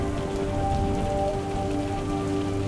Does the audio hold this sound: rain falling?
yes